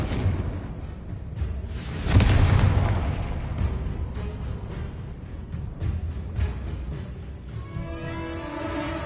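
A Confringo spell explosion in the video game Hogwarts Legacy, a booming blast with a whooshing burst that swells then decays amid ongoing combat noise, followed by a brighter shimmering effect near the end.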